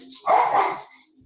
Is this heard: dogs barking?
yes